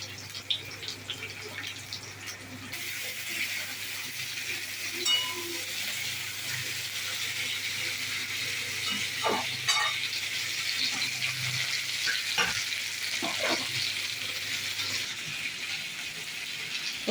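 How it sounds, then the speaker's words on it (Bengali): Okra (bhindi) frying in a covered pan without water, giving a steady soft sizzle throughout with occasional faint drips and clinks, no talk. "ভেন্ডিগুলো দিলাম, ভালো করে একটু ভাজবো ঢেকে ঢেকে"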